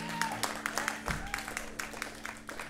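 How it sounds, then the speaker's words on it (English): A small audience claps at a concert in a club, scattered, uneven hand claps at close range, thin rather than a full ovation, with a brief spoken word in the middle. "a couple claps."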